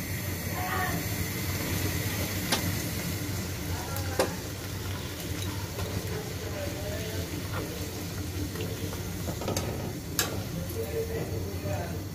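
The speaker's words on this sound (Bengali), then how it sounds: "এভাবে করে আমি এক এক করে লুচিগুলো সব ভেজে নেব। কত সুন্দর একদম ফুলছে।" Luchi, puffed flatbread, deep-frying in hot oil, a steady close sizzle and bubbling with occasional sharp ticks, while a faint voice talks in the background.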